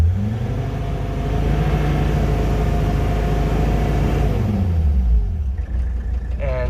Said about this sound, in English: it'll make some boost on just holding the revs.